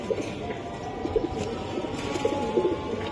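Racing pigeons coo softly in a loft or pen, low throaty calls repeating under a constant wash of background noise.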